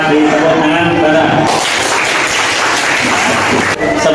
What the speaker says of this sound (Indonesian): kita beri tepuk tangan bareng.